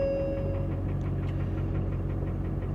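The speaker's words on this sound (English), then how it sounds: "Sounds like there's a tap in the engine." A 1980s Ford F150 XLT pickup engine idling with a tapping fault: a continuous low throbbing rumble with faint, regular ticking taps running through it, close and steady.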